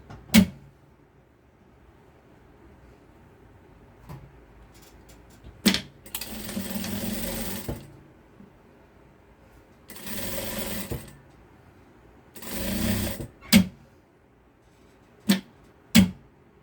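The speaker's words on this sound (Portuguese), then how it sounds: "A máquina tá barulhenta, né, gente?" A noisy domestic sewing machine runs in several loud bursts of a few seconds each, whirring steadily with rattling mechanical noise, separated by quiet pauses and sharp clicks.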